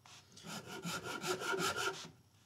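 Sandpaper rubbed on the wooden neck of a guitar being carved, a close rhythmic scratching with about eight rasping back-and-forth strokes that swell and then fade.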